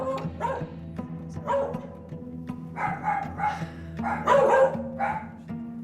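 A dog barks in short bursts indoors, in a home where its owners are being trained because of a biting problem. The barks are fairly close and repeat irregularly over a low steady hum, with no talk.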